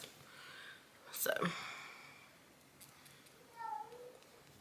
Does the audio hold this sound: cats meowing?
yes